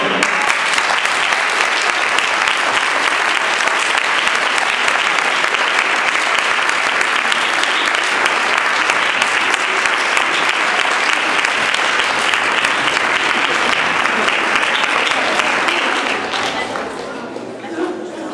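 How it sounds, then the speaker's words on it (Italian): A concert audience gives loud, sustained applause for the soloists. The dense clapping holds steady for about sixteen seconds and then fades quickly at the end. "Tutti i solisti, grazie, con un applauso."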